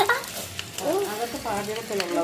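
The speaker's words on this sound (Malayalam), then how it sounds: "പാനിൽ എണ്ണ ചൂടായിട്ടുണ്ട്. നമുക്ക് കുറച്ച് സവാള ഇടാം." Onions dropped into hot oil in a pan give a steady sizzle and crackle, with a few tonal, voice-like sounds rising over the frying.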